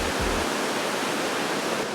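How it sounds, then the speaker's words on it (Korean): Rhine Falls in Switzerland, a waterfall 23 m high and 150 m wide, roars as a dense, steady wash of rushing water, loud and unbroken throughout with no voices. "라인강 줄기에서 가장 큰 폭포이자 높이 23m, 폭 150m로 유럽 최대 크기의 폭포라고 합니다."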